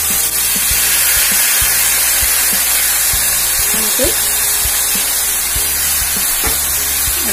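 Chopped banana flower with dal frying in a pan gives a steady, close hiss and sizzle throughout, with faint scraping taps and occasional soft speech.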